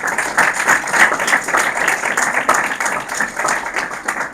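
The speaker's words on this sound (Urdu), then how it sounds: "بجائے تالیاں خداوند یسوع مسیح کے لیے" Loud, sustained applause from a large church congregation during a Christmas sermon, with rhythmic clapping rising and falling over the whole stretch.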